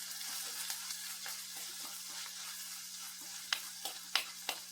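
Onion and curry leaves frying in a pan alongside tuna fish, giving a steady close sizzle with a few sharper crackles and stirring knocks near the end.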